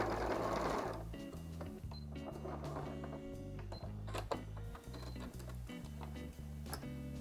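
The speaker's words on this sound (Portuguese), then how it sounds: "Aqui eu vou voltar o meu cursor e vou costurar o restante." Sewing machine stitching the remaining seam of a fabric bag, a steady fast mechanical whir with dense rhythmic needle clatter running close and loud throughout, with brief slowdowns and stops.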